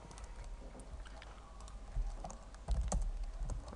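Notes are typed on a computer keyboard, a soft, continuous run of key clicks with a few louder taps, close and quiet with no talking.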